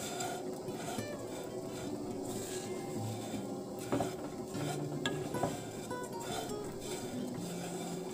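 Milk vermicelli payesh (dudh simui) being stirred in a pot, giving faint, steady scraping and gentle swishing beneath a quiet musical backdrop.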